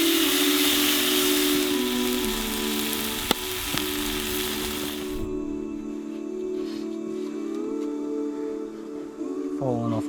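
Vegetables fry in fish oil over a campfire with a loud, dense sizzle and hiss that drops off abruptly partway through, leaving quieter crackle and a low steady tone.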